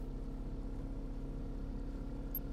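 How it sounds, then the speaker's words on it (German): Electric boat motor running in the Fishing Planet game, a steady low hum with a faint whine, constant and even across the short stretch with no talk. "da würde ich jetzt aber mal den Motor anschmeißen"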